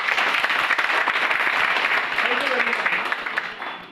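Audience applause at a business meeting, a dense burst of many hands clapping together close by, holding steady and then thinning out and fading toward the end.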